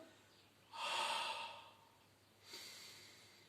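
A person exhales during a Pilates exercise: one soft, breathy exhalation followed by a fainter second breath, close and quiet with no talking.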